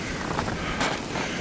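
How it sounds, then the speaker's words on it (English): Strong wind buffets the microphone outdoors in a steady, loud, broadband rush with gusts swelling briefly, and no voices. "And it's really windy."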